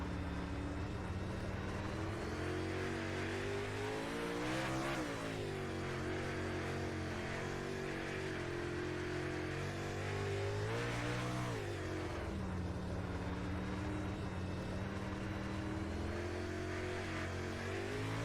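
A super late model race car circling a speedway, its engine a steady droning roar with rising and falling pitch as it works through the corners, heard continuously from an onboard perspective.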